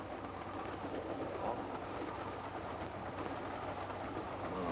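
A quiet, steady rumble of a train rolling along the rails, even and continuous with faint rattling, heard from inside and with no talking.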